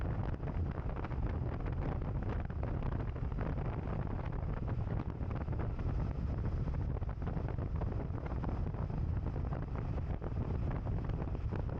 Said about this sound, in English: I got a brutal crosswind coming in from my right, whipping my head